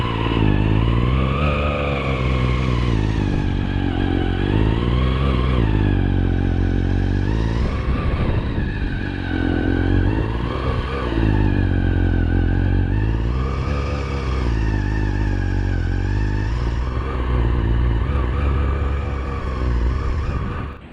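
A Kress KG471 60V electric two-stage snow blower running at a driveway, a loud continuous whine whose pitch rises and falls in repeated waves as it works, with no voices.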